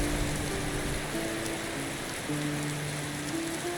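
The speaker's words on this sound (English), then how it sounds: "Oh, still raining" A constant hiss of falling rain in the game Enderal fills the scene, with soft sustained musical tones drifting underneath.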